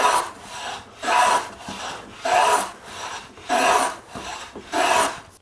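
Core box plane cutting shavings from wood in five steady, evenly spaced strokes, each a close, crisp rasping swipe followed by a brief pause, with no voices.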